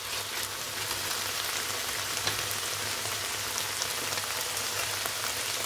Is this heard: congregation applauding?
no